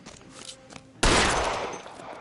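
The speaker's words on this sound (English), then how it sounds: "I'm gonna shoot this dude." A single loud, close gunshot from the LA Noire video game cracks out after a stretch of quieter game sound and trails off in a long, noisy decay.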